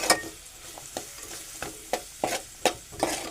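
Onion sautés in a pan toward golden brown under a low sizzle, punctuated by about eight regular scraping stirs close by.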